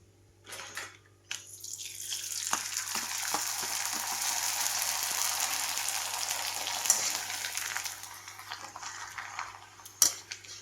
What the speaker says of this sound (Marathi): हे पापड तळून घेतलेले